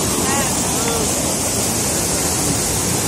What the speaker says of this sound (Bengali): দেখতেই পাচ্ছ কত জল যাচ্ছে